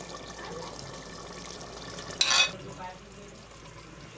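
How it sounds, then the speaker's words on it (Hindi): Minced meat frying in a pan with tomato and masala, a steady low sizzle with a brief louder burst of stirring near the middle, then settling back to a quiet simmering hiss. "अब हम इसमें अपना कीमा ऐड करेंगे और फिर इसकी भुनाई करेंगे"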